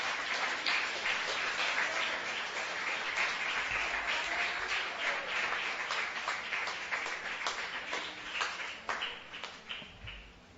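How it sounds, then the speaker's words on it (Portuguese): Church congregation applauding during a Brazilian evangelical service, a steady dense patter of hand claps lasting throughout, gradually thinning toward the end. "As palmas para Jesus"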